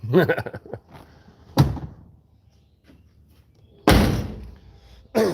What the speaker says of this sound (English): Nice heavy door thud